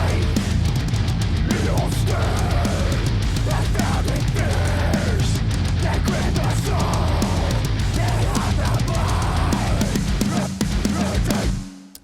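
A dense, loud deathcore metal mix with distorted guitars, heavy drums and harsh vocals, with the Golf Foss plugin turned down, playing continuously for about twelve seconds.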